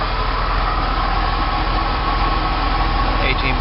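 2001 Porsche Boxster 986 engine idling with the air-conditioning compressor clutch engaged, a loud steady low rumble and hum that stays constant throughout, with a voice briefly audible.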